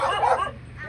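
A dog barks and yips at strangers, a short burst of close, loud, high-pitched barking lasting about a second.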